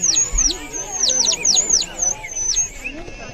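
Shrill warbling bird-like whistles blown in quick bursts, rising and falling, a water-filled bird whistle trilling over background chatter and room noise in Kodaikanal.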